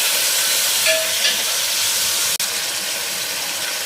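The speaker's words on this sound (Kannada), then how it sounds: "ಟೊಮೊಟೊ ಹಾಕ್ತಾಯಿದ್ದೀನಿ. ಟೊಮೊಟೊನ ಸ್ವಲ್ಪ ಸಾಫ್ಟ್ ಆಗೋದು ಇದನ್ನು ಫ್ರೈ ಮಾಡ್ಕೊಳ್ಳೋಣ." Tomatoes frying in a pan for tomato rice, a steady bright sizzle and hiss that runs throughout, with a brief sharp click partway through.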